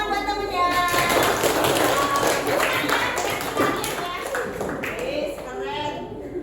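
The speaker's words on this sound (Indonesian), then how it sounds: "Tepuk tangan buat temennya." Elementary classroom applause for two students after a coding lesson, scattered uneven clapping from children with a teacher and kids talking over it throughout.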